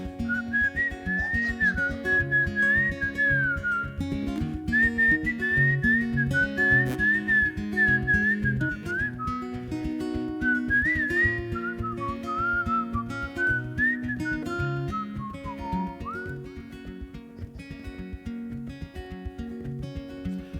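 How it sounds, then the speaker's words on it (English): A person whistles a continuous melody, close and clear, with sliding notes over a steady musical accompaniment for the whole stretch. "Whistle."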